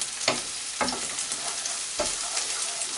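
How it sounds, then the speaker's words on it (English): Onion fries in very hot peanut oil with a steady sizzle, broken by three sharp scraping stirs of a utensil against the pan; no one speaks. "And then we fry this onion for a minute."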